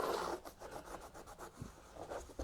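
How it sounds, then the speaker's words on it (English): Old glue residue is rubbed off a motorcycle seat pan with acetone, making soft, repeated scrubbing strokes in a quiet room. "I'm just going to go around the whole seat pan and clean up any old glue"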